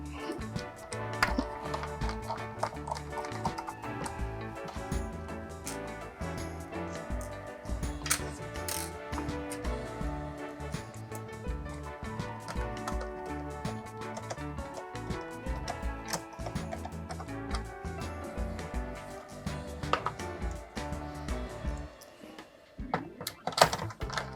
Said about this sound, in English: I'll put the screws back in.